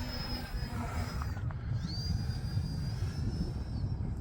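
A radio-controlled airplane on a 4S battery flies at half throttle over a parking lot, its electric motor giving a steady high whine that dips and rises as it passes, heard at a distance over wind rumble.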